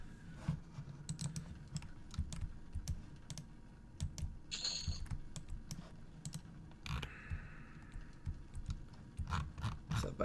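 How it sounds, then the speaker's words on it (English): Rapid computer keyboard typing in an EverQuest Project 1999 chat box, a steady run of close, crisp key clicks with a faint game ambience underneath and no talking. "Typing in the chat box instead of"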